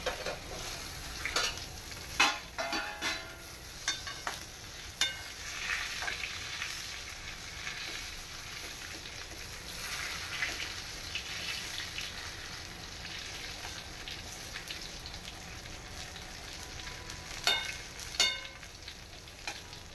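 Brinjal coated in masala cooks slowly in a pan over low heat, giving a soft, constant sizzle, with scattered clicks and scrapes as it is stirred now and then.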